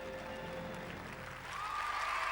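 Crowd applause after a women's gymnastics team rotation at a 2000 competition, a brief, fairly faint wash of clapping heard from a distance in a large arena.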